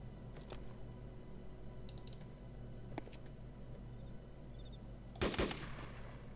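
Gunshots in the DayZ mod for Arma 2, a few faint sharp cracks over a steady low game ambience, ending in a louder close burst of shots near the end; no voices.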